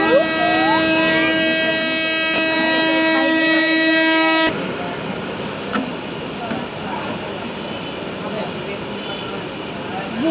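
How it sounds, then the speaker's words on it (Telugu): Tirumala Express pulling into Medapadu station: a long sustained horn blast over rolling rail noise, then the horn cuts off, leaving steady carriage rumble and clatter as the train slows. "మేడపాడుకి మన ట్రైన్ చేరుకుంది."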